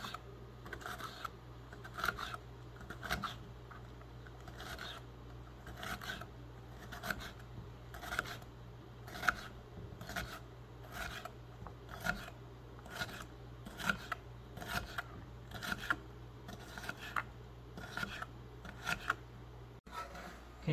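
A knife slicing jalapeno into thin pieces on a cutting board: even, regularly spaced chopping taps, close and fairly quiet, continuing throughout with no talking.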